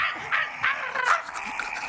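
A pinscher dog barks and yips in a series of sharp, high, fairly close barks, with no talk over them.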